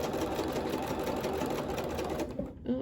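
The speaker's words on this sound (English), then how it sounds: "Keep sewing, keep sewing." A sewing machine runs steadily as it stitches a pleated cloth face mask, giving a close, continuous whirring hum with a fast rhythmic needle chatter that stops abruptly near the end.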